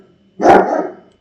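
A single loud, close dog bark with a harsh, slightly drawn-out tail, standing alone without any talk.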